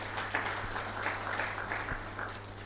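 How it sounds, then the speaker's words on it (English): Audience applause at a national stakeholders dialogue on food security in Nigeria, a steady, dense wash of many hands clapping at moderate distance, continuous throughout with no voices on top. "Please let's give them another round of applause."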